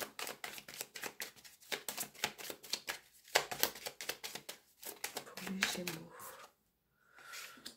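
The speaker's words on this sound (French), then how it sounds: "on va mettre la carte ici, on va voir avec le petit Normand votre tirage" Petit Lenormand oracle cards are shuffled and drawn, making rapid, close, papery riffling clicks in quick bursts, then a short pause and a softer slide of a card being laid down.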